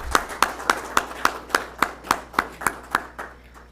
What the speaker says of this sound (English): Please help me thank Peter Friedrich with a good round of applause.